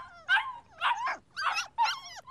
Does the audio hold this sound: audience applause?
no